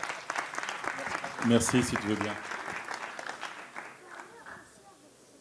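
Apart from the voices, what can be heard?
audience applauding the speaker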